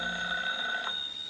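An old telephone bell rings in a radio drama scene, one sustained bright metallic trill lasting over a second, close and clear with no talking.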